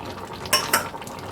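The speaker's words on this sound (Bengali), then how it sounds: "দেখো ঝোলটা পুরো একদম ভালো মতো করে ফুটছে" Curry gravy for a prawn dish bubbling in a pot, with soft simmering texture and two brief scraping or clinking accents, close and without talk.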